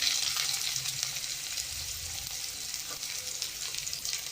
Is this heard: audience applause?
no